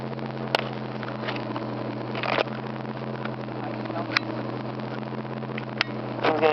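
A 2006 Dodge Charger R/T with a Hemi V8 idles with a steady, deep exhaust rumble close to the rear, punctuated by a few faint clicks and knocks, without any talking.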